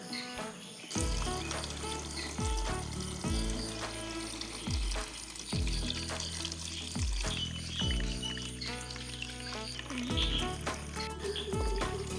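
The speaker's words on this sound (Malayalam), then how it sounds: "വെള്ളം ഒഴിച്ചു കൊടുക്കാം" Water is poured into a tub for potting lotus tubers, coming in a series of repeated splashy pours with short gaps between them, moderately close and without talk.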